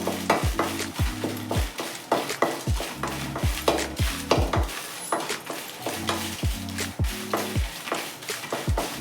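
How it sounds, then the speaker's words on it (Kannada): Dried Guntur red chillies dry roasting in a hot pan, with steady stirring scrapes and a light crackling sizzle repeating in close, even rhythm throughout. "ಗುಂಟೂರು ಮೆಣಸಿನ್ಕಾಯಿದು ಡ್ರೈ ರೋಸ್ಟ್ ಮಾಡ್ಕೋಬೇಕು"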